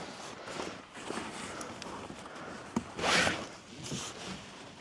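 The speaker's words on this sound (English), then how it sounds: "So it's just a matter of undoing the zips." Zips on a trailer tent being undone, a few quiet rasping pulls and fabric rustles, the loudest sharp zip run near the end, heard close and alone.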